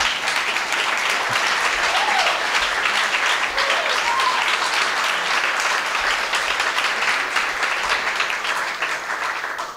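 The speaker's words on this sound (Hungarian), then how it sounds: "Tapsoljatok még nyugodtan, mert Francis majd biztos vissza fogja nézni" Audience applause at the opening ceremony of the 2019 Budapest Pride LGBTQ festival: steady, dense clapping from a large crowd filling the whole stretch, with a few faint cheers rising above it.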